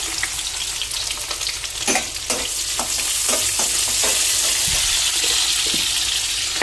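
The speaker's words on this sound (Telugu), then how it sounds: "అలాగే చికెను వేపుతున్నాను" Chicken frying in a pan with masala paste and green chillies, making a loud continuous sizzle broken by several sharp stirring scrapes and clatters, close up with no talking.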